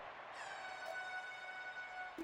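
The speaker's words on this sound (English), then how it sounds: "Nice air horn." An air horn sounds at a simulated baseball game as one sustained, faint, reedy blast lasting about two seconds, heard alone.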